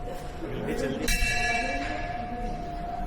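A single temple bell strike at Jivdani Temple rings out loudly, its metallic tone lingering and slowly fading, over a murmur of voices in the background.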